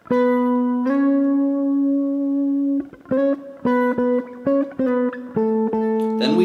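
A clean electric guitar plays a short lick, holding one note before a run of quick plucked notes with half-step slides between them; close and clear with no talking.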